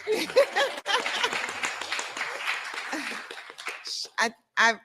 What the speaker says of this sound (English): Oh, go ahead, you can clap.